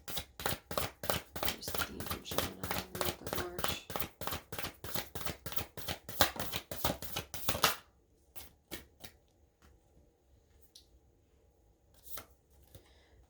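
Oracle cards are shuffled in rapid, dense riffling bursts for about eight seconds, close and fairly loud, followed by a few scattered soft taps and card handling in near quiet.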